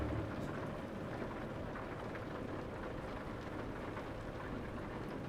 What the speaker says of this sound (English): Slow down for the rain.